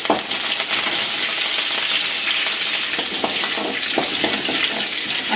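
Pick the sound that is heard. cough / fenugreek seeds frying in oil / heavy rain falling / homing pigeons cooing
fenugreek seeds frying in oil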